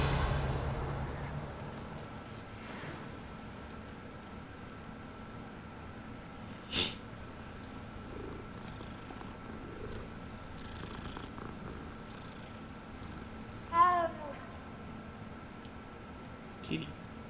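A cat purrs softly in a video game with a low, steady rumble under faint background ambience, broken by a few brief sniffs or snorts.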